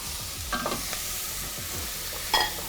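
Scallions, yellow pepper and cherry tomatoes sizzle in a pot, with a few scrapes of stirring and a brief sharper clink near the end, steady frying hiss throughout.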